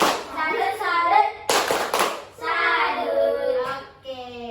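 Children and an adult doing the tepuk salut rhythmic clapping game, bursts of hand claps mixed with chanted voices, loud and close, with pauses between sections.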